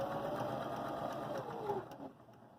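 A Viking Emerald 118 sewing machine runs a zigzag stitch, its fast, even motor whir and rhythmic needle ticking close and steady before slowing and stopping near the end.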